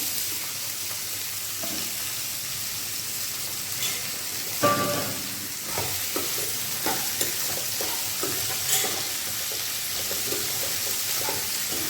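Ivy gourd pieces sizzle in hot oil with a steady, hissing crackle like light rain, punctuated by occasional stirring knocks and scrapes.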